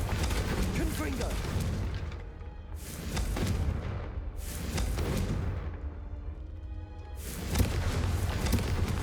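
Confringo explosive spell blasts in Hogwarts Legacy come as repeated heavy booms with rumbling tails, about four bursts spaced a couple of seconds apart, loud and close over constant game noise.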